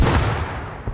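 A grenade goes off in the video game Rust, a single loud, close blast at the start that fades into a rumbling decay over about a second.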